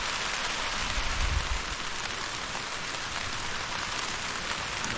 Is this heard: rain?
yes